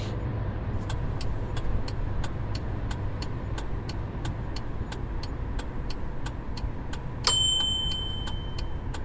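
Car turn signal ticking at a steady even rhythm while merging onto a highway, crisp regular clicks over low road and engine rumble, with a brief chime near the end.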